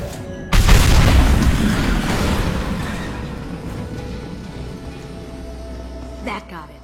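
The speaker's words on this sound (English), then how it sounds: "That loud explosion." A video game explosion blows up tanks: one loud, deep boom bursts out near the start, then rolls into a long rumbling decay that fades over several seconds.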